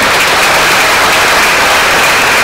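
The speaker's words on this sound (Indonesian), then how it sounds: "Sekali lagi saya kira kita harus berikan tepuk tangan yang hangat untuk Ahok" Warm audience applause at a public lecture by Jakarta's acting governor Basuki Tjahaja Purnama (Ahok) at a congress, 17 November 2014: loud, dense, continuous clapping from a large crowd, sustained throughout with no talk over it.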